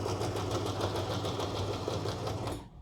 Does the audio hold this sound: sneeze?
no